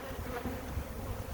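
Honeybees buzz steadily around an open hive on a sunny, warm day, a low continuous drone close by with no voices.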